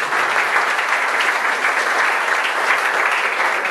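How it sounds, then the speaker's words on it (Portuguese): A church congregation applauds at an anniversary service, a dense, steady and loud wash of clapping that holds evenly throughout without talk. "Você pode aplaudir."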